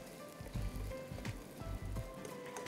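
Gond, the edible gum, sizzles and puffs while frying in hot oil for malida, a steady crackling bubble with small pops, close and fairly loud, no voices.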